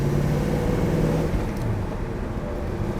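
A 1971 Chevrolet Nova with a 350ci V8 and exhaust manifolds drones steadily from inside the car, a loud, throaty low rumble holding even throughout with slight shifts in pitch, no voices over it.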